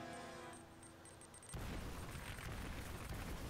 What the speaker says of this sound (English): just a lot of explosions in a short span of time